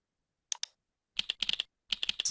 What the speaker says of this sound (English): Type in the search word or words